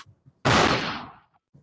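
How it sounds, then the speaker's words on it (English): A single gunshot sound effect bursts out loud and sharp, then decays over about a second, with brief faint sounds before and after it. "Gunshot, please."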